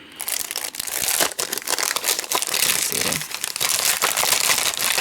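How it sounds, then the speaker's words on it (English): Die-cut cardstock pieces being popped and pushed out of their sheet at a craft table, a dense run of close crinkling, rustling and small crunches throughout. "I'm trying to pop that out of there."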